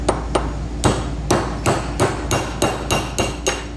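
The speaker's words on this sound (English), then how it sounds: "take our little machinist hammer here" A small machinist hammer strikes metal about ten times in a steady rhythm while removing a wear ring from an antique air cylinder, each blow a sharp, close, ringing clank.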